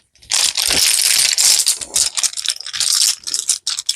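Small hard rune stones rattle and clatter together in a bag, a busy shuffling sound that continues with short pauses.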